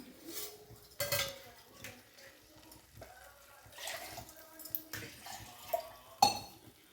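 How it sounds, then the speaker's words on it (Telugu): Water poured into a pan of makhana gravy on the stove: faint, close splashing and trickling with clinks of a utensil against the pan, in short irregular bursts amid quiet kitchen sounds. "ఇప్పుడు వాటర్ యాడ్ చేసుకుందాం."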